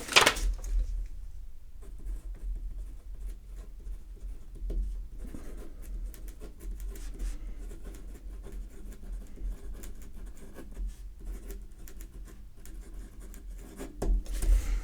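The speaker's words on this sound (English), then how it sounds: "I need to write this down" A pen scratches across paper as notes are handwritten, a soft, continuous close-up rustle with faint scraping that goes on throughout.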